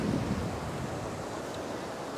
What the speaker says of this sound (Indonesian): ombaknya cukup kencang ya